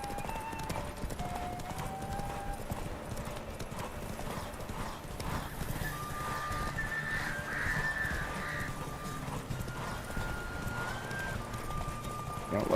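Roach the horse galloping in the video game Witcher 3, a steady rapid clip-clop of hooves under game music tones, fairly faint and continuous.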